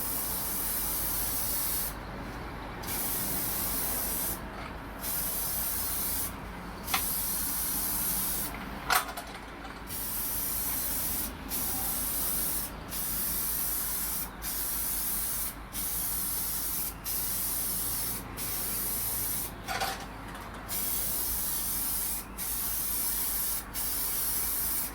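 An aerosol can spraying nitrocellulose sealer onto a guitar body in a series of steady hissing bursts separated by short gaps, close and loud, with a few faint clicks.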